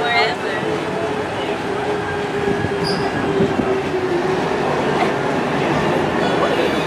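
A Disney Mickey & Friends parking tram rolls along with a loud, continuous rumble and clatter of wheels. Faint squeals rise over the steady drone, and voices can be heard over the ride noise.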